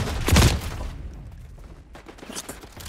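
Gunfire in the video game Black Ops 6, a loud close burst of shots at the start followed by quieter scattered shots and game noise.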